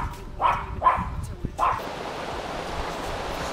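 A dog on an outdoor walk gives three short, sharp barks at a distance, with wind and rushing background noise continuing afterward.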